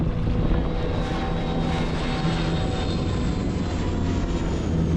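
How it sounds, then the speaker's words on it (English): A passenger plane flies low over a sailboat mast near an Icelandic marina, giving a loud, steady jet roar that fills the whole stretch, with some wind noise and no voices. "A passenger plane passed by straight over my mast, on its way to wherever it was going."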